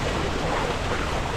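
Water rushes along a jungle trekking path in the Andharban forest of the Kundalika Valley, making a close, continuous roar with no pauses and no voices.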